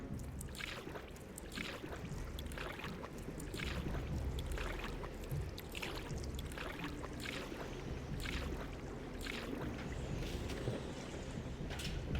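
A boat in a video game moves steadily through water, a continuous wash of splashing and engine-like rumble with wind noise, no voices, lasting the whole stretch.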